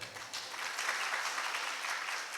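Audience applause at a religious discourse gathering, a dense, steady burst of many hands clapping that swells quickly and holds for a couple of seconds.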